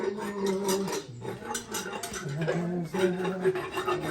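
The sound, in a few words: equine dentist filing a horse's teeth with a rasp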